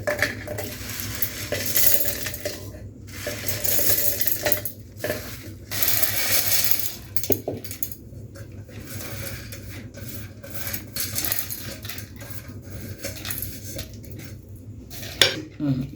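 Roasted, cooled spices and dried chillies for idli podi tipped into a steel mixer jar, a dry rattling clatter of pieces striking metal in several bursts with short pauses, near and fairly loud, no talking.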